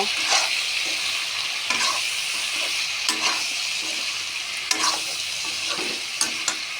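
Paani, potato and raw banana pieces sizzle steadily in a hot pan while being stirred, with scraping clicks of the spatula and a continuous bright frying hiss throughout.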